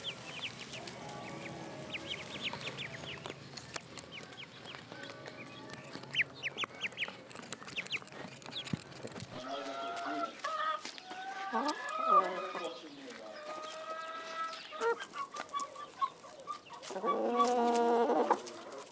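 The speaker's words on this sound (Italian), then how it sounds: "le piccole anatre sono pronte per la prima uscita all'aperto, sul verde tappeto del prato" Young ducklings out on a green meadow near a historic rice-farm homestead, with a steady mix of peeping, quacking and clucking calls, busy and close, building to a louder burst of calls near the end.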